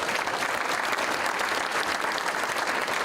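Students at a Lockport Township High School District 205 Board of Education meeting receive a round of applause from an indoor crowd, dense continuous clapping lasting a few seconds.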